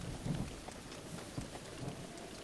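Video-game rainstorm in Breath of the Wild: a soft, steady hiss of rain with low, faint rumbles of thunder, fairly quiet and without speech.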